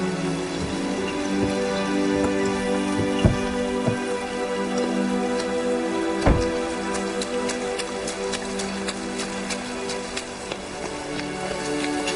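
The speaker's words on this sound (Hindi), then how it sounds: "बाहर अभी भी बारिश हो रही है" Rain falls steadily outside, a dense, even patter of drops on surfaces with a few sharper knocks, continuous and fairly loud throughout with no talking.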